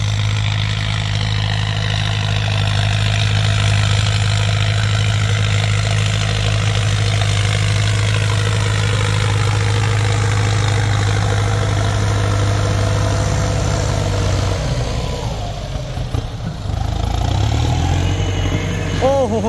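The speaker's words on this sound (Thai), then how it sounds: "ดันดินเกียร์สองอ่ะเต็มใบมีดอ่ะ" Massey Ferguson turbo tractor pushing soil with a full front blade in second gear, its engine droning loud and steady at close range, the pitch shifting and straining briefly near the end.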